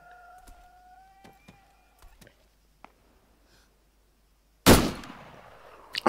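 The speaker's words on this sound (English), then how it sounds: "I think I heard some gunshot. There we go. That was a gunshot." A single loud gunshot in the video game ArmA 3 cracks out near the end, ringing with a sharp decay, after several seconds of quiet scattered clicks and a faint electronic tone.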